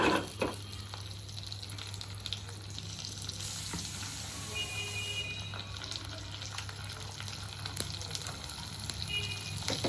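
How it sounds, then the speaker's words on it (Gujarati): Spices tempering in hot oil for a vrat-style kadhi, a steady close sizzle and crackle running the whole time with faint stirring clinks and a low kitchen hum beneath, no talking. "અહીંયા આપણો જે વઘાર છે એ થઈ રહ્યો છે."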